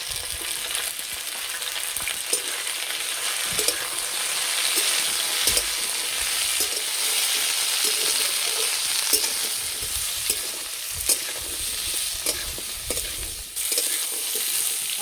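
Vegetables with flat beans frying in a pan while being stirred, a steady loud sizzle with scraping stir strokes throughout and no talking.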